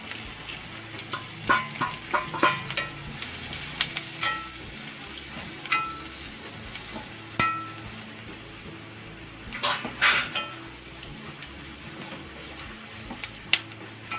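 Spice powders including cumin powder and garam masala being stirred into frying chana masala gravy, a soft steady sizzle broken by scattered clicks and scrapes of a spoon against the pan.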